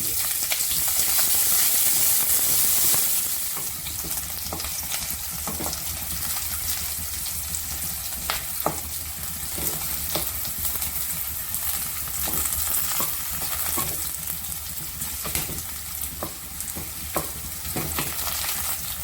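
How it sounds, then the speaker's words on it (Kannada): Ginger, green chillies, garlic and chopped onion fry in ghee for chicken biryani, giving a steady close sizzle with scattered clicks of a spoon stirring the pan, loudest at the start and then settling to an even crackle. "ಚಿಕ್ಕ ತುಂಡು ಶುಂಠಿ, 4 ಹಸಿಮೆಣಸಿನಕಾಯಿ, 8ರಿಂದ 10 ಬೆಳ್ಳುಳ್ಳಿ ಎಸಳು, 1 ಕಟ್ ಮಾಡಿರುವಂತಹ ನೀರುಳ್ಳಿನ ಹಾಕ್ಕೊಂಡು ಚೆನ್ನಾಗಿ ಫ್ರೈ ಮಾಡ್ಕೋಬೇಕು."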